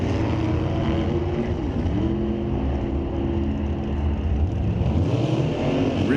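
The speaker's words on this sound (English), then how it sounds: "He's using every little bit of this small block Chevy to try go 890" A drag race car with a small block Chevy engine roars loud and steady at full throttle on a drag strip, a dense continuous engine drone with no talk.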